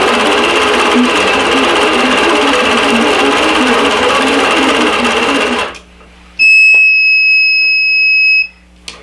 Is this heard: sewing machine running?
yes